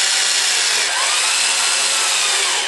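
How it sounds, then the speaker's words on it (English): An electric drill bores a pilot hole for the screws of a bathroom or closet door lock, giving a loud, steady, close-up whirring grind that runs without a break and carries no voices. "I am going to drill a pilot hole"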